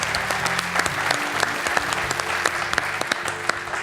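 Steady audience applause in a French TV quiz studio, dense and even clapping that fills the whole stretch without pause, loud and close, with a faint hint of voices underneath.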